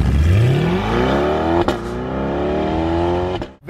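A 2020 Chevrolet Corvette C8 with the Z51 package launches hard in track mode, its engine note climbing steadily through the revs with a brief shift break midway, loud and close, then cutting off abruptly at the end.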